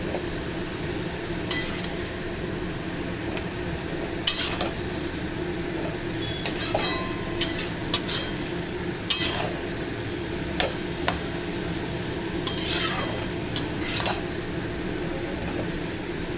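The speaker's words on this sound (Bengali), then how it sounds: "এবার এটাকে নাড়াচাড়া করছি।" Bottle gourd and shrimp being stirred in a pan with salt and turmeric over a raised gas flame, with scattered light metallic clinks and scrapes from the spoon against a steady low background hum.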